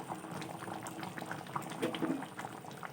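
A pot of fish curry with garoi fish and sour amora fruit simmers on a gas stove, giving a close, steady bubbling and gurgling with soft pops.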